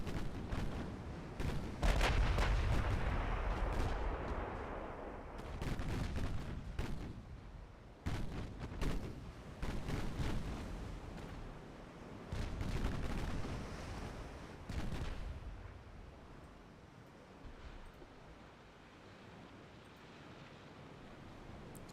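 Battleship guns fire in the naval strategy game Ultimate Admiral Dreadnoughts, a series of deep booming salvos and distant rumbling blasts in irregular clusters, fading toward the end, with no talk.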